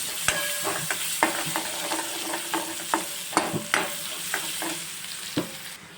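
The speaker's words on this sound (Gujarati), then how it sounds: "હવે એને આપણે ડુંગળીને ગોલ્ડન બ્રાઉન સુધી એને કૂક કરી લઈશ" Half a cup of onions frying in a pan toward golden brown for a restaurant-style cashew curry, a steady close sizzle broken by repeated sharp scrapes and clacks of a spoon stirring, with no talking.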